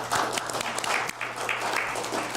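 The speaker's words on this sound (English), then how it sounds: "give Mike Clifford and his staff and Brian Cox and his staff a big round of applause" A room at a board of directors meeting bursts into steady, dense applause from many hands, a continuous crackling clatter that holds for a couple of seconds with no voices over it.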